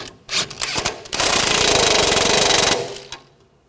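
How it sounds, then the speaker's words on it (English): A power tool tightens the front sway bar link nut on a 2013-2019 Ford Escape: a few short clicking bursts, then a loud, steady rapid rattle for about a second and a half, close up. "I'll tighten the nut down."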